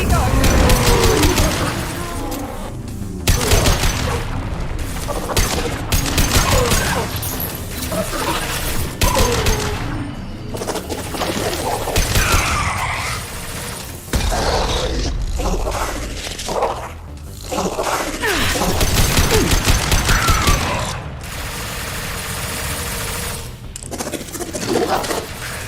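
Gunfire from the Mass Effect 2 video game crackles in dense, rapid bursts through most of the stretch, with loud repeated shots and booms set among battle noise and voices talking over the fight.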